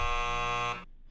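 A game show buzzer sounds in one steady, loud, harsh electronic tone lasting under a second, then cuts off into quiet room sound.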